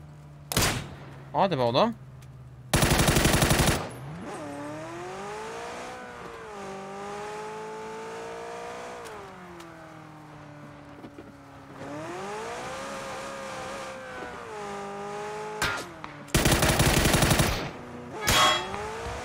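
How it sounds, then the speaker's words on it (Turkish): SLR rifle gunfire in PUBG, with several bursts of loud, sharp shots spread across the clip while a vehicle engine drones and rises and falls in pitch, and someone speaks briefly. "Buradan bir SLR sıkıyor, ona bakalım."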